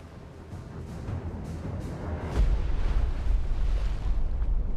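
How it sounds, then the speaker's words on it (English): Deep, heavy rumbling booms of depth charges bursting underwater during a submarine hunt in the Destroyer The U-Boat Hunter naval game, a sustained low roar swelling louder midway with faint muffled thuds earlier. "Look at that, right where our explosions are going off."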